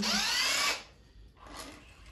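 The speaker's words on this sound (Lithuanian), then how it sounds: "Paskutiniai du varžteliai." A power tool spins out the last bolts from an engine: a loud, close whirring burst that cuts off, then a second, fainter spin-up moments later.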